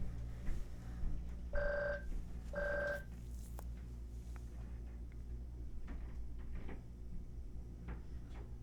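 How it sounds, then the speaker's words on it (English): A phone rings twice, two short electronic tone bursts close by, followed by soft clicks and knocks in a quiet room with low hum and no voices. "Looks like I got a phone call."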